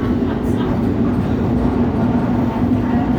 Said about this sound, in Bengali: এটা হলো অনেক পুরনো একটা ট্রেন, তাদের ঐতিহ্য।